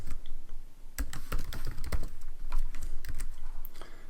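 Steady, close clatter of computer keyboard typing while entering React component code, rapid uneven keystrokes throughout with no voices.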